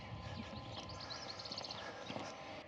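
A horse walks nearby on the Camino del Norte, its hooves clip-clopping in a soft, irregular rhythm against a faint outdoor background.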